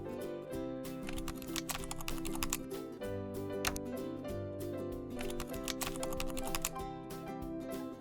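Rapid, continuous tapping of keys on a computer keyboard, close and busy, with irregular clicks over a faint background tone.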